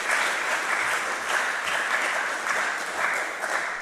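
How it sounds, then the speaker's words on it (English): Steady applause from an audience at a speech, dense clapping that holds at an even level throughout, heard alone without talk. "And then they clap for me."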